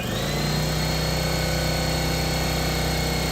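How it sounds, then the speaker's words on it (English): A large air compressor runs off a portable power station, a steady loud mechanical hum and drone with a constant tonal whine, heard alone without talk. "Go turn on the big compressor first."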